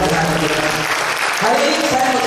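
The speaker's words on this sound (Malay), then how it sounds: "kita kasih tepuk tangan dulu bagi Tuhan yang luar biasa" A church congregation applauds for God during a service, a broad wash of clapping at full loudness that runs under overlapping voices for a couple of seconds.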